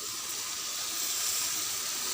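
Chopped tomatoes dropped into turmeric spice paste frying in a pan for a rohu fish curry, giving a steady, loud, close hiss of sizzling with no break.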